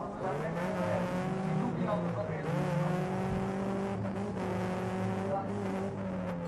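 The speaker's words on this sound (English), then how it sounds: "our sound cameras are actually picking up someone revving from somewhere" A race car engine revs hard at a dirt-track autocross meeting on a Dutch King's Day event, the loud sustained motor rising and falling in pitch throughout with a commentator talking over it.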